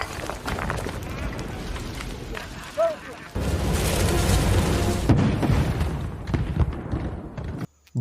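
Black powder set off by mountain bandits explodes in a sudden loud boom. A long rumbling roar follows it, mixed with music and other noise, and a voice talks over part of it.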